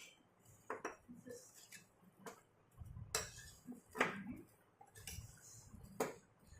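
A utensil scrapes and clinks against a bowl while onion and capsicum pieces are tossed together, giving irregular close knocks and rattles spaced a second or so apart, fairly faint and with no talking.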